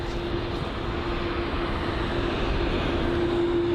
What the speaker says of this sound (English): So this A330 just holding short, blocking all of the aircrafts from using this taxiway.